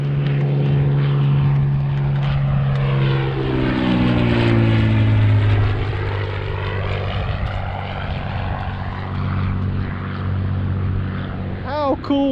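A low-flying propeller airplane passes overhead along a beach, its droning engine rising to a loud peak and then falling in pitch as it recedes into the distance.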